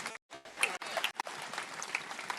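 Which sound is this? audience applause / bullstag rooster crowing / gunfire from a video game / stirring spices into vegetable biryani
audience applause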